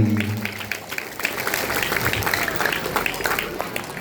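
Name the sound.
audience applause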